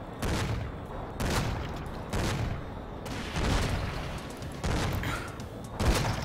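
Bursts of gunfire in the Cortex Command video game, five or six rapid rattling volleys separated by short gaps, moderately loud and without talk.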